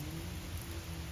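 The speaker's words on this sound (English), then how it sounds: "I mean, it's really raining out there." Steady rain pours outside on a rainy day, a dense continuous hiss that stays even and fairly faint throughout, with no voices.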